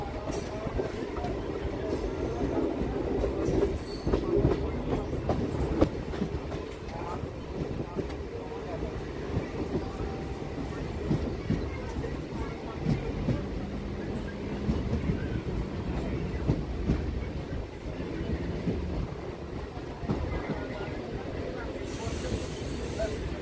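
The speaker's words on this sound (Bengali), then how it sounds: "আমাদের ট্রেনটা মেন লাইন থেকে লুপ লাইনে ঢুকছে।" Heard from aboard the 8:40 Hasnabad–Majerhat local via Princep Ghat as it moves from the main line onto a loop line: a steady rumble and rattle of carriages with rhythmic wheel clatter and faint squeals, continuous and moderately loud.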